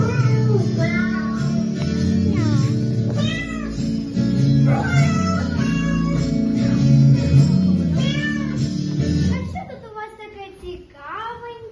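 A voice imitates a cat, meowing repeatedly in drawn-out, rising and falling cries over a steady background hum.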